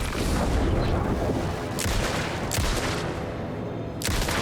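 Gunfire in Alan Wake 2 comes as rapid, dense bursts of loud shots over a roaring, noisy combat backdrop, with a few sharper cracks standing out.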